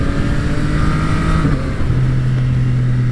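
Yamaha MT-09 Gen 3 motorcycle engine revs loudly up close, a sustained throaty drone that shifts pitch midway as the revs change, with no talk.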